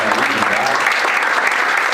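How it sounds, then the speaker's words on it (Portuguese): Audience applause from a crowd at a live Brazilian band concert, a dense sustained wash of clapping filling the whole stretch at steady loudness. "Foi uma salva de palmas pro Gere também"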